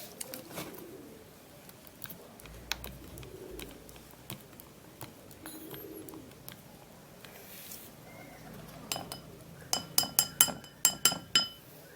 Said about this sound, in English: let me use a spoon to do that.